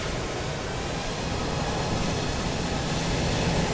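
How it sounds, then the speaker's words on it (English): Steady, loud roar of a Delta Airbus A350 jet engine in Microsoft Flight Simulator 2020, holding constant and unbroken throughout with no voices. "Here goes Delta A350 back to America."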